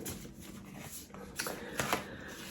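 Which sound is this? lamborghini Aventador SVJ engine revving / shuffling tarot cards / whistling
shuffling tarot cards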